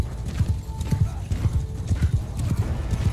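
Cavalry horses move in the Mount & Blade 2: Bannerlord video game, with a close, steady patter of hoof clip-clops and an occasional neigh under a voice.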